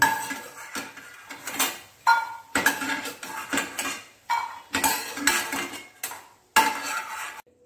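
Metal utensils scrape and clink against a pan in repeated bursts of stirring and lifting fried lentil dumplings, with a faint sizzle underneath.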